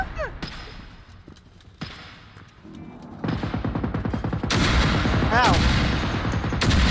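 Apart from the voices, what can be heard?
gunfire in a warehouse in the video game Generation Zero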